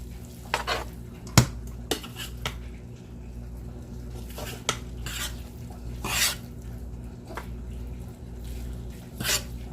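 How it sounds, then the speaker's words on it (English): A spoon stirs stuffed bell pepper filling with jasmine rice, Worcestershire and meat in a pan, giving soft squishy scrapes and a few sharp clinks against the pot over a low background hum. "Mix it all around."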